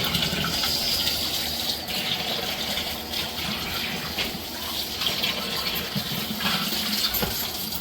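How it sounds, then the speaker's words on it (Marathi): Freshly caught chivni fish from a creek being washed under a running tap, with water gushing and splashing steadily and close by throughout, and no talking. "तर आता मस्त ती धुवून घेते बघा"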